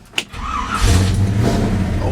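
A truck engine starting: a sharp click, then the starter cranks briefly before the engine catches and settles into a loud, steady idle close by.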